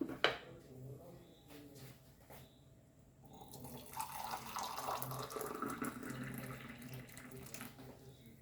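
Hot water poured into a bowl for Goan sol kadhi, about three cups, a steady splashing stream that swells after a quiet start and runs on for several seconds.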